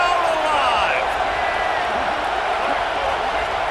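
A stadium crowd roars steadily in EA Sports College Football 26, a dense far-off wash of cheering with whoops, under a commentator's voice.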